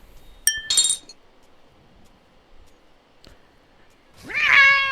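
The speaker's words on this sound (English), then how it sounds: "ignore the cat clicks. That's just me trying to collect all cats" Cat clicks in the video game Wind Peaks sound as brief chiming glassy clinks followed by a short synthetic meow near the end, with quiet gaps between them.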